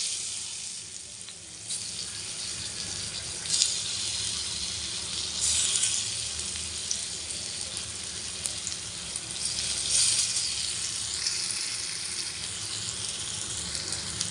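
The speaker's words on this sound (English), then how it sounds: "Now we'll place the Alu Vadi in it for shallow frying." Alu vadi, rolled colocasia leaves, shallow fry in a hot pan with a constant, bright sizzle that swells and crackles in waves, close and alone.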